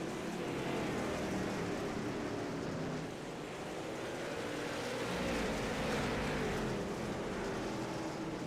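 A pack of race cars in the iRacing simulator roars off at a race start, a dense steady engine drone with rising engine pitch as the field accelerates, with no voices.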